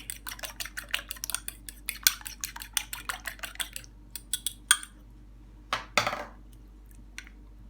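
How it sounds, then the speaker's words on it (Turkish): Egg being whisked in a bowl with a utensil while making a yeast-dough ground-meat pastry, giving a fast run of close, crisp clinking taps that pause briefly, then a few last scrapes. "Bir adet yumurtamız var. Yumurtamızı çırpalım."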